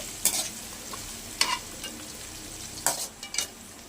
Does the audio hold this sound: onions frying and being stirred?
yes